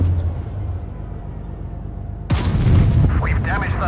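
A video-game explosion sounds suddenly after a low engine drone, a loud, close boom with a long rumbling tail and crackling debris.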